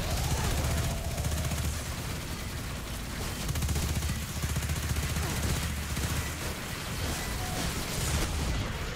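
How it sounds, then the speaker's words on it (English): Dense enemy gunfire from the Destiny 2 video game, a continuous rattle of rapid shots and booms filling the whole stretch at steady loudness, with no voices over it. "they're all shooting at me!"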